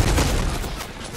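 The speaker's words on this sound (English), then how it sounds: "I'm getting shot at." Gunfire aimed at the player in Fortnite, a dense, rumbling spray of shots blurring together into one continuous burst that slowly fades over about a second.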